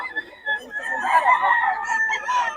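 SBR bloodline gamefowl roosters crowing at a gamefowl sale, several drawn-out, close crows overlapping in quick succession, with faint clucking and murmured voices around them.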